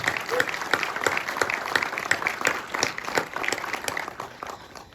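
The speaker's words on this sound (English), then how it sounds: "I'd like to give them a round of applause." Audience at a graduation ceremony breaks into steady applause, a dense wash of many hands clapping throughout, with a voice faintly audible underneath.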